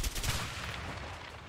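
Heavy automatic gunfire roars in the A Way Out video game as cover fire, loud and sustained with rapid cracks at the start that blur into a dense rumble, and no one speaking.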